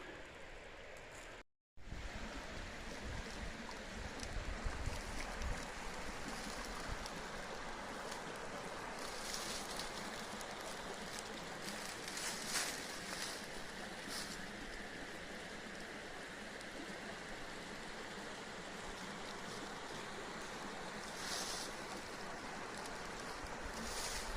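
The Cahaba River flows past a hiking trail near an old coal mine site, a steady, quiet wash of moving water that continues evenly at a distance, with a brief gap near the start.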